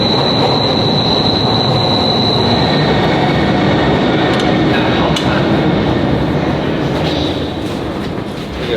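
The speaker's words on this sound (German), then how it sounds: "das sind flackneue U-Bahnen hier" A brand-new Berlin U-Bahn subway train runs loudly from inside the carriage, with a constant heavy rumble of wheels on track, a high squeal early on and rhythmic clacking, slowly easing off toward the end.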